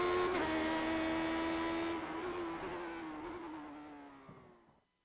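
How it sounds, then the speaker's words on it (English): Lotus 79 classic Grand Prix car in iRacing at Spa, its engine loud and steady at high revs, then easing off and fading away as the car slows, with no talk. "Here you see what it's like from the driver's perspective around here at Spa and the Lotus 79."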